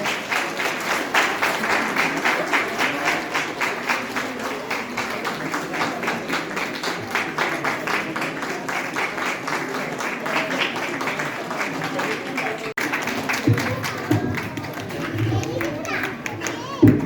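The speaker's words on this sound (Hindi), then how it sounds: "जोरदार ताली बजनी चाहिए" Audience clapping at a ceremony honouring teachers with shawls, coconuts and certificates, steady dense applause running throughout, with some voices mixed underneath.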